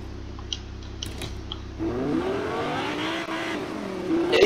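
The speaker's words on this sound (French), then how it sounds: "je t'ai fait un tour en voiture" A car in Fortnite, the Batmobile, revs and accelerates close by with a rising engine drone after a few clicks.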